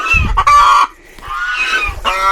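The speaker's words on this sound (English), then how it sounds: "The chickens are loving the new straw." Chickens in a coop with fresh straw cluck loudly and close by, with several drawn-out squawking calls in a row and a brief pause between them.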